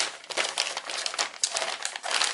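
Cardboard box packaging for a Hobao Hyper SSe RC buggy being opened, with close, crisp crinkling and rustling in irregular bursts, no talking.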